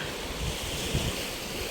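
Ocean waves wash onto a seashore beside a typhoon-damaged stretch of coast, a steady broadband roar of surf with a slightly stronger surge near the middle, mixed with wind buffeting the microphone; no one speaks.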